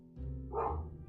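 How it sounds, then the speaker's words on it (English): A single short dog bark sounds fairly close and a bit muffled, with no one speaking. "if you hear barking, sorry, the dog's excited because she hears Austin coming in"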